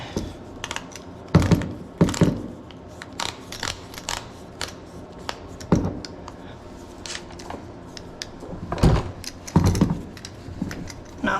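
Tightening fasteners on the dry carbon front splitter of a Mustang GT350R: a run of close, irregular metallic clicks and ratcheting taps, with several louder clacks spaced across the stretch and no talk.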